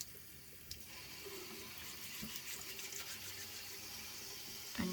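Tap water runs steadily into a sink while a skincare cleanser is emulsified on the face during a nighttime routine, a soft continuous splashing rush with no talk.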